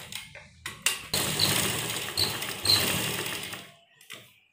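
A sewing machine stitches around the edges of a homemade cloth face mask, starting with a few short stuttering bursts before settling into a steady, close whirring run that then stops abruptly.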